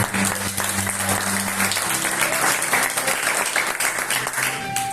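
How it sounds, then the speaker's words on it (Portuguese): A church congregation breaks into a sustained round of applause during a sermon, dense clapping with a held tone and murmuring voices underneath, steady and fairly loud throughout. "Uma salva de palmas."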